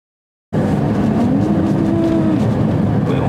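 A Ferrari 296GTB on a test drive starts up after half a second of silence, then runs as a loud, steady engine drone with a tone that climbs and then holds, close to the listener.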